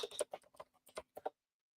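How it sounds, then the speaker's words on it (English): Typing on a Cloud9 ergonomic keyboard, a quick burst of close, light key clicks in an uneven rhythm that stops after about a second and a half. "It's Cloud9 ergonomic keyboard."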